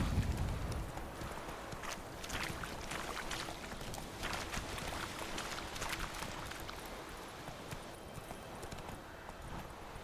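The horse Roach trots along in The Witcher 3: Wild Hunt, a steady rhythmic clip-clop of hooves that stays fairly soft and even throughout, with a faint ambient hiss underneath.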